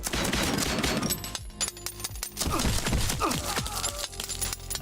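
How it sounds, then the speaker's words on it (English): Machine gun fire in the sci-fi strategy game Space Scum rattles out in loud, rapid bursts with sharp impacts and brief gaps between volleys, without talk. "now this guy's gotta use the machine gun"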